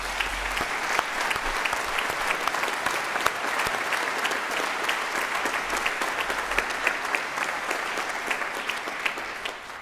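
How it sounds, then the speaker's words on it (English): Sustained applause for the Army Band at a Scottish regional brass band championship, a dense, steady clapping from a large audience that holds at an even level throughout with no talk over it. "I think they need another round of applause."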